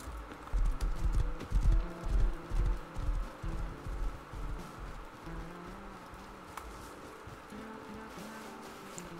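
Horse hooves clip-clop in the survival game Rust, a steady run of soft, rhythmic thuds that gradually fade into the background with no speech.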